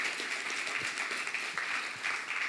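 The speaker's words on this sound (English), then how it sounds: "So a big round of applause for you for coming out tonight" Applause from an event audience at a sports summit, a steady dense wash of clapping at moderate volume lasting the whole stretch, with no talk over it.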